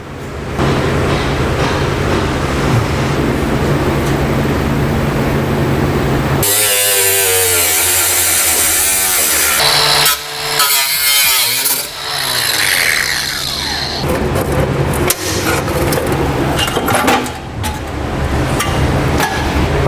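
A power tool cuts into the metal heat shield under a 2008 Chevrolet Silverado during a gooseneck hitch installation, a loud, close, harsh whine and grinding that shifts in pitch and bites unevenly as the blade works through.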